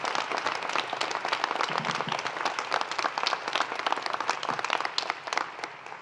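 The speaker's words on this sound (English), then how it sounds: "let's just continue that round of applause for the whole Communications Network team" Loud, dense applause from a conference audience for a communications network team at a leadership event, continuous and energetic with sharp individual claps standing out across the whole stretch.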